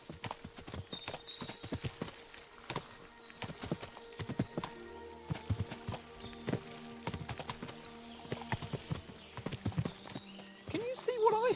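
Horses' hooves clip-clopping in the video game Kingdom Come Deliverance 2, a busy rhythm of many hoof strikes with occasional whinnies, under a low background of music and ambience.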